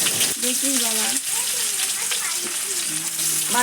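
Onions and chillies frying in oil in a home kitchen for chow mein, a steady close hiss and sizzle, with a voice talking over it.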